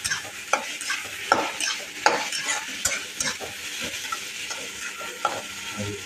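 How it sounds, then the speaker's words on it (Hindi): Onions frying in a pan for Burma-style karela, stirred with frequent scraping strokes over a constant bright sizzle, close up and without any voices. "अब इसमें हम प्याज डाल के भून देते हैं"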